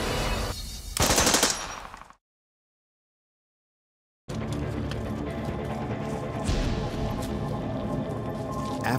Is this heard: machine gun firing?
yes